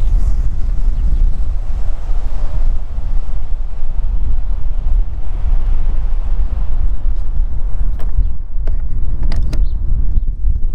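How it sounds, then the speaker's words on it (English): Strong wind blows at an outdoor level 2 EV charging site, roaring as loud, continuous buffeting across the microphone throughout, with a few faint sharp knocks near the end. "it is extremely windy"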